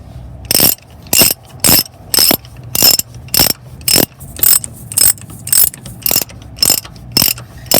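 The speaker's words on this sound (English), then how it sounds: "I'm going to use a ratchet here." A ratchet tightening a shock absorber bolt on a Ford Super Duty, loud and close: a steady run of about thirteen evenly spaced clicking bursts, with no voices.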